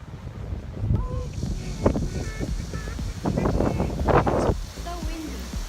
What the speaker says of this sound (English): So windy.